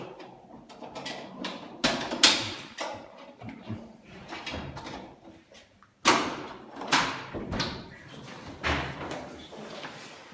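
Police forcing a door during an arrest: loud, uneven thumps and slams against the door, with two especially hard blows and scraping, rattling impacts in between, close and not covered by speech.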